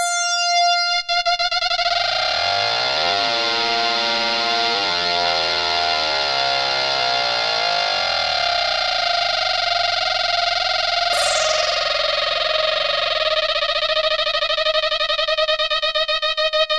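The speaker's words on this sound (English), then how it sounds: "you can get some really crazy sounds if I bring up the speed of the LFO" Novation Circuit synth playing a single-oscillator tone under fast LFO modulation, producing a warbling, sweeping, distorted buzz with shifting pitch and chorus-like motion, loud and alone throughout.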